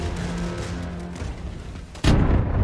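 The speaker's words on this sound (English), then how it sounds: "Oh, the smart bombs." Smart bombs exploding in Wolfenstein: The New Colossus, heard as a continuous rumbling, crackling barrage that erupts into a sudden loud, heavy blast about two seconds in and keeps roaring afterward.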